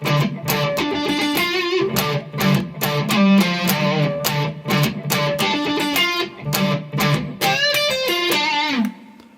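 Distorted electric guitar plays the outro line of a song: choppy, repeated staccato notes in clustered bursts with brief gaps, rising to a brighter run near the end, loud and close, no voices.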